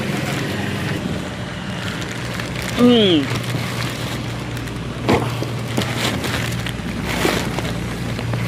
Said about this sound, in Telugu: పడుతుంది వర్షం, చిన్నగా పడట్లేదు.